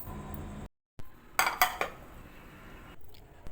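Lemon pickle and salt being stirred in a bowl, giving a few quick clinks and scrapes of a spoon against the dish after a brief silent gap, close and fairly quiet.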